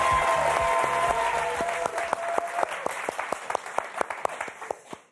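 A studio audience at the French game show Motus applauds to welcome host Thierry Beccaro, with music underneath at first; the dense clapping thins into scattered, separate claps that fade out toward the end.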